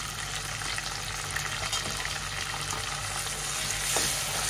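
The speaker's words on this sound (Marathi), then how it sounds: "आता मी गॅस फास्टच ठेवलाय, फास्ट गॅसवरती आता मी परतवते, पण ढवळत राहूया आपण आता सगळं।" Chopped tomatoes and onion for misal sautéing in a pan on a high gas flame, a dense and constant close sizzle with faint stirring scrapes, no talking.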